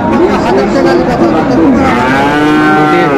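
A Sahiwal bull at a cattle market in Kushtia lows loudly and continuously, one long drawn-out moo close by, over a steady background of crowd chatter.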